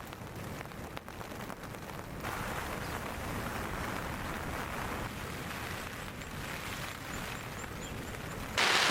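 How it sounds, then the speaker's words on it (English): Morning rain on a hiking trail in New Zealand, a steady soft hiss of drops falling on surfaces, fairly faint and constant, with a brief louder patch near the end. "it is very rainy this morning."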